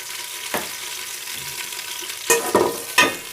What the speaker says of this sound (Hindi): तो ये देखिए हमारा घी गरम हो चुका है। अब हम इसके अंदर प्याज ऐड करते हैं।